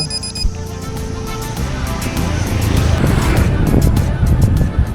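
A car passes a cyclist on a road in Bali during a 200 km audax ultra-cycling event, its engine and tyre roar swelling loud and near over wind noise as it goes by.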